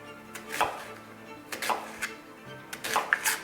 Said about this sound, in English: into thin slices, trying to get as close as you can to the size of the pepper in thickness and width